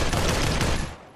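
Rapid gunfire in the VR shooter Population One while the player clings to a climbed wall, a dense continuous burst that fades slightly at the end.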